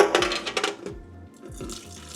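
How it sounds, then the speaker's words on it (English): Water runs from a tap while developed black-and-white film is rinsed, with a few clinks of metal or glass against the sink, fairly close and without talk. "Your water should come out a little bit gray."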